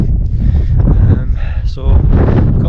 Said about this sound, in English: It's a bit windy, so I've dropped back a wee bit of shelter now, just to get out of the wind.